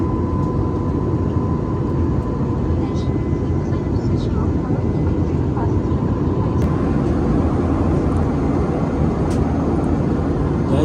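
Inside a passenger airplane cabin in flight, a loud, steady broadband engine and air roar fills the space, with faint voices barely audible beneath it while the plane turns and gently dips and rises.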